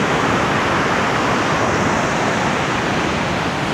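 Sea surf at Dianao Beach in Aurora, a steady broadband wash of waves that stays loud and constant throughout, with no voices.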